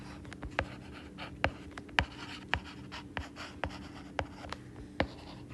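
Pen writing a math solution by hand on paper: a quiet, close sequence of sharp scratchy strokes and taps at irregular intervals, with no talking.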